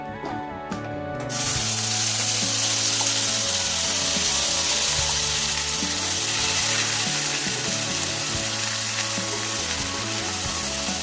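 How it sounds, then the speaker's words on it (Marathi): Ground wet masala paste hits hot oil in a kadhai while cooking a restaurant-style matar paneer gravy, setting off a loud, steady sizzle and spatter that bursts in after a second and carries on strongly to the end. "आपण जे वाटण तयार केलेले आहे ते घालून घेऊयात यामध्ये कढईमध्ये"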